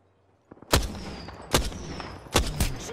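Gunfire in the shooter game Apex Legends: a faint pop, then four loud, sharp shots spaced irregularly across a few seconds, each with a short echoing tail.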